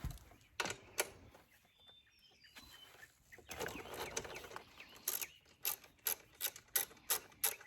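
Wrench ratcheting on 14mm shock bolts atop a motorcycle's shock tower, a series of sharp clicking bursts at close range between quieter stretches, with no talking.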